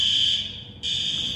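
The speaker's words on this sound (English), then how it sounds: "in Walmart the fire alarm was going off and nobody panicked" A fire alarm sounds inside a Walmart store as a loud, steady high-pitched tone, briefly dipping before returning at full strength, with no talking.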